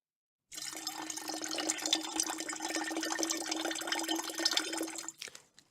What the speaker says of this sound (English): After that, pour the glass of milk into the mixer.